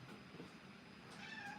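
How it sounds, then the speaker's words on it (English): A house cat meows near a door at home, one faint drawn-out meow at the end over a quiet room hiss. "don't be meowing to me"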